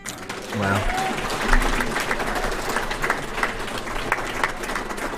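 Crowd applause breaks out at a junior singles pool trophy final, a dense wash of clapping and cheering that swells early and holds steady at close range, with voices mixed in.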